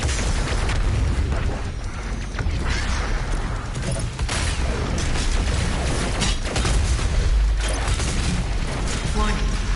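The BFG 10,000 in Doom Eternal unleashes loud explosive booms and crashing bursts over a constant roar of game sound, with a voice heard speaking in places.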